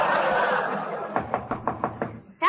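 Six evenly spaced knocks bang on a door in a row, following a voice and ending as another voice cuts in, set in a comedic radio play.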